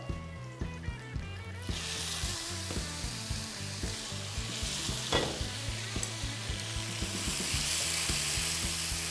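Tomatoes sizzle in a hot pan while a utensil scrapes and taps in a quick, regular rhythm, the frying hiss swelling louder after a couple of seconds, close and without talk.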